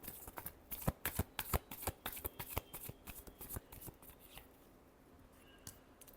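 Tarot cards being shuffled by hand, a rapid run of crisp riffling slaps that slows and fades into softer rustling, close and alone without talk.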